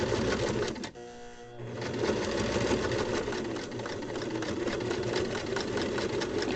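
A sewing machine stitches strap fabric with the cut edge guided along the presser foot, giving a steady, close mechanical whir that dips briefly near the start, then runs on evenly with no talking.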